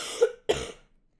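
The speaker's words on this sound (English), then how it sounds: "maybe I got all of the coughing out right there" Two sharp, close coughs about a quarter second apart, each with a short raspy tail, then quiet, with no talking.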